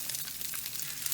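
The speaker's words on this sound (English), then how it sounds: "I am going to add the braciole. Nice and sizzling." Braciole frying in hot oil at about 380 degrees, a steady close hiss and sizzle with small crackling pops, quiet and continuous, no voices.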